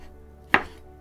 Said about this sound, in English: And so we have the roots here, so they're pretty hard to chop sometimes.